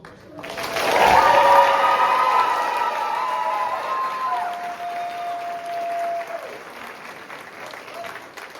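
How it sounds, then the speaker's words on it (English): A high school choir concert audience applauds loudly in a warm hall, a dense burst that swells quickly and then settles into steady clapping, with a few tonal voices or cheers mixed in before tapering off. "Give one big round of applause to all of our students."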